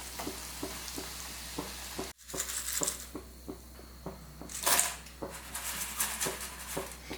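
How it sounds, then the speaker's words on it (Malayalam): Leftover chapati pieces fry in a pan of hot oil, a steady close sizzle punctuated by regular taps and scrapes of a stirring utensil, broken by a brief silence before the frying and stirring resume. "ബാക്കിയുള്ള ചപ്പാത്തി മുറിച്ച് വെച്ചതും ഇതിലേക്ക് ഇട്ട് കൊടുക്കാം"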